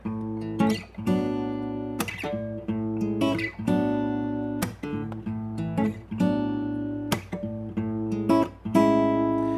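Acoustic guitar strumming chords in a steady rhythm with sharp percussive accents, played up close with no voices.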